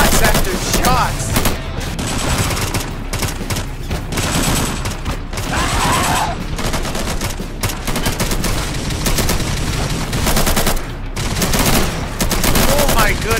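Dense rapid gunfire from AK rifles and RP9s in a zombie shooter game during a navy base attack, continuous overlapping bursts and volleys close up for the whole stretch.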